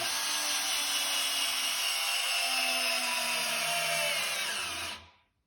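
A Bosch GSR 12V-140 drill/driver drives a screw into wood, whirring continuously and loudly at close range for about five seconds before cutting off abruptly.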